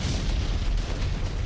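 Missile launcher firing during an Iranian military drill, a dense continuous roar of rocket blast filling the whole moment, loud and sustained with no talk.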